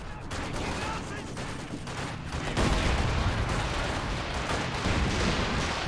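A Stuka artillery barrage pounds the battlefield in Company of Heroes 2, a dense continuous roar of blasts and gunfire that swells louder midway, with a voice faintly audible in the background.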